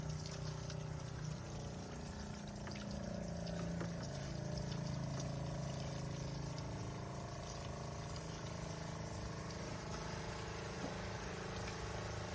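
A pump steadily draws water through a hose for a roof-cleaning job, giving a continuous liquid churn and motor hum that stays close and even for the whole stretch, with no talking.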